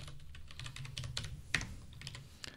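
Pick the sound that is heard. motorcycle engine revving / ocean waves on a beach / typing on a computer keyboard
typing on a computer keyboard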